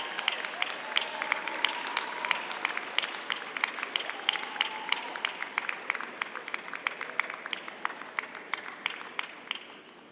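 An audience at a university convocation ceremony cheers and applauds the graduates, with dense, steady clapping and scattered whoops that carry on throughout, fairly loud and close.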